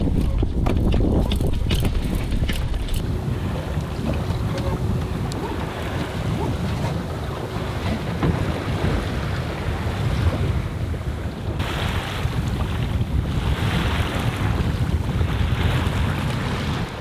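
A sailboat running downwind near an island on a hot desert lake, with strong wind buffeting the microphone and waves sloshing against the hull in a continuous loud rush and no talking.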